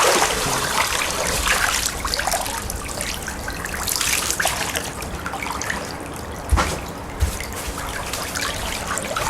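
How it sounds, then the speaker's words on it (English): A shower runs steadily in a house setting, a constant hiss of falling water with a couple of sharp knocks partway through, fairly faint and with no one speaking. "I'm going to get in the shower"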